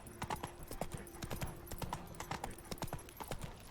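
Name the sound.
horse Roach's hooves clip-clopping in The Witcher 3 video game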